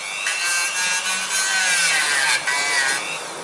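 A Dremel multitool sands a car brake disc with a steady, bright abrasive whine and rasp that holds constant for several seconds, close and loud, without speech.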